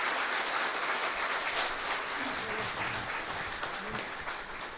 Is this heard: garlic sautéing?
no